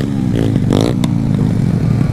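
A motorcycle engine revs loudly and close by, rising in a quick surge over its steady running rumble, heard on a ride in Jamaica.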